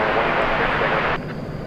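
An Airbus A320 airliner at DFW Airport, a loud broad jet engine roar that cuts down abruptly to a quieter rumble partway through.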